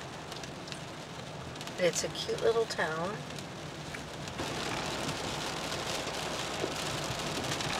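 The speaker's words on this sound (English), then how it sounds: "Obviously, we're dealing with rain." Steady rain patter and road hiss fill the background while driving on Michigan Highway 123 through Newberry, with a person speaking briefly over it before the wet noise grows a little louder.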